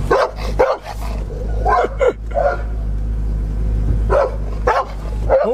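A dog barks in several sharp bursts, close by and loud, with pauses between volleys over a steady low rumble that may be traffic.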